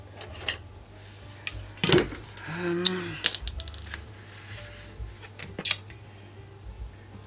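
Scissors snip through a sturdy paper board in a few sharp, separate cuts, close and fairly quiet, with soft handling noises and a brief hum between them.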